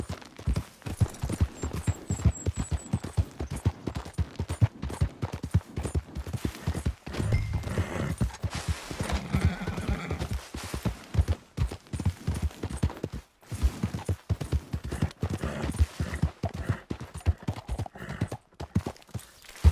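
Galloping horse hooves in Red Dead Redemption 2 thud in a fast, steady rhythm close by, with a brief whinny early on and faint game ambience behind the hoofbeats.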